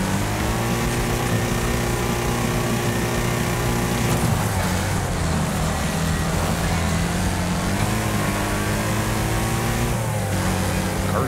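A racing car engine in the Wreckfest video game revs hard and continuously, loud and close, with rising and falling pitch as gears shift and the car accelerates, and no voices over it.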